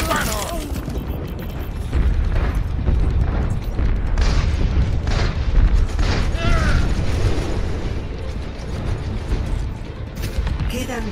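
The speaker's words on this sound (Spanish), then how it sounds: "¡Escuchen los disparos!" Gunfire and explosions in a Christmas event match of Overwatch, a dense, loud, continuous barrage of shots and booms with mechanical clatter, with voices mixed in.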